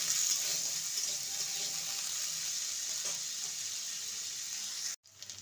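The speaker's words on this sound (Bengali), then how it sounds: "এগুলোকে আগে প্রথমে ভেজে নেব, তারপর ফুলকপি আর ক্যাপসিকাম দেব।" Carrots and cut potatoes frying in hot oil for nabaratna polao, a steady bright sizzle that runs continuously and then cuts off abruptly near the end before resuming faintly.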